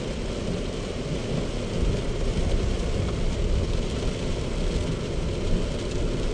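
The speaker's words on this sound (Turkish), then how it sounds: "Gene yağmur hızlanıyor." Heavy rain drums steadily on the roof of a Chery Tiggo 7 Pro on forest roads, a dense continuous roar with no pauses.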